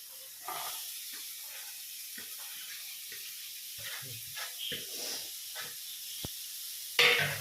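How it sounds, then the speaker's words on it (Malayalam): Prawns with chili sautéing in a pan for chemmeen mulakittathu, a steady faint sizzle and hiss with scattered crackles and spatters, a sharp pop near the end. "ചെമ്മീൻ മുളക് ജസ്റ്റ് ഒന്ന് വാട്ടി മുളകുപൊടി മഞ്ഞൾപ്പൊടി തക്കാളി ഇടുക"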